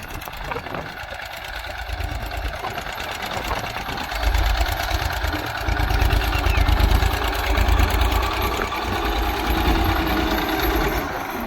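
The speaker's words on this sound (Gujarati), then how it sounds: "ટ્રેક્ટર આવેલું આવે છે ખેડ કરતું કરતું" Tractor ploughing a village field with a tined cultivator, a loud, steady close engine drone with a rhythmic throb that rises and grows heavier partway through and then holds.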